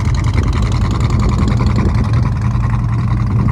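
A 1967 Pontiac GTO tribute convertible with a 389 Tri-Power engine and 4-speed idling, a loud, deep, steady rumble close by with a slightly lumpy pulse and no talking.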